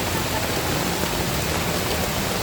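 Heavy rain pours near a river at Estrella Falls in Narra, Palawan. It makes a dense, steady hiss that fills the whole moment with no talking.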